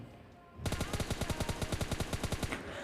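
Automatic gunfire from PUBG Mobile Lite, the mobile battle royale game: after a brief quiet moment, a long, steady burst of about twenty close, loud shots rattles off in an even rhythm.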